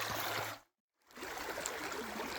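Creek water flowing along a hiking trail near Legion Lake in the Black Hills, a steady soft trickling rush, close and continuous, briefly cut to silence before resuming.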